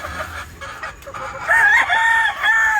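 A grey Kelso gamefowl rooster crows loudly and nearby, a clear drawn-out cock-a-doodle-doo following some quieter clucking, with no talking.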